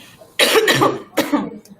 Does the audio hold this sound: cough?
yes